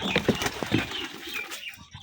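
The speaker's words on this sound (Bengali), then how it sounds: "এই যে আমার কবুতর লফট" Pigeons flap their wings inside a pigeon loft at feeding time, a short, fairly quiet flurry of fluttering beats with faint chirps, fading after about a second and a half.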